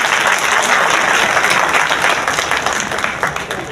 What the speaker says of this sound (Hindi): तो ताली बजा करके इनका स्वागत करिए